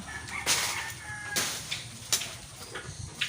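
Chickens cluck in short, scattered bursts nearby, with a few sharper calls over a low background murmur.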